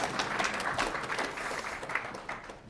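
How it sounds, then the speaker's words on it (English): Audience applause fills a lecture hall, a dense steady patter of many hands clapping at moderate level throughout, with no speech over it. "You can applaud."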